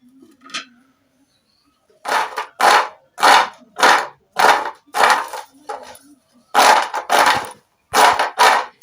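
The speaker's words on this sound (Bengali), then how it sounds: "আওয়াজ শুনে নিশ্চয়ই বুঝতে পেরেছো বন্ধুরা যে আজকের বিস্কিটটা কতটা খাস্তা হয়েছে" Crispy homemade wheat flour biscuits being broken by hand, a series of about a dozen loud, close crunching snaps in a steady rhythm after a brief quiet start.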